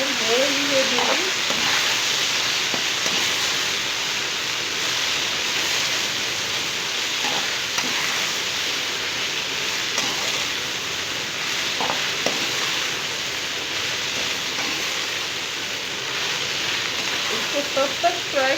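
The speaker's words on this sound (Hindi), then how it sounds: "इसको तब तक फ्राई करना है जब तक हमारी ये पूरी गोल्डन नहीं हो जाती।" Okra (bhindi) deep frying in hot oil gives a long, steady, bubbling sizzle with occasional faint clinks from a utensil, close and continuous throughout.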